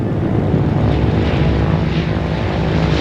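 Propeller-driven French military transport aircraft landing during an airlift, a steady loud engine drone with broadband roar that holds constant and close throughout, no voices.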